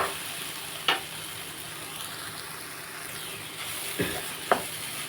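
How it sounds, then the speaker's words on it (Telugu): Soya chunk (meal maker) keema frying in a pan gives a steady close sizzle with a few sharp pops and stirring clicks. "ఇదిగోండి ఇప్పుడు బాగా వేగుతుంది కదండి"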